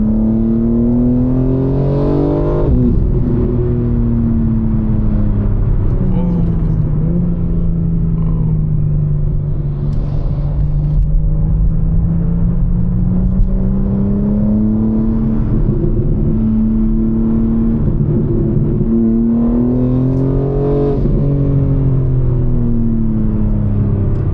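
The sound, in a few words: BMW M4 Competition loud exhaust revving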